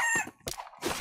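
A short burst of video game chicken clucking and squawking, close and fairly loud, broken into a few quick choppy calls.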